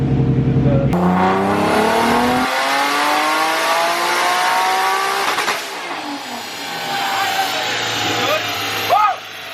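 A loud Nissan Skyline R32 drift car engine revs up with rising pitch, then drops back and idles, with a short squeal near the end and people talking faintly.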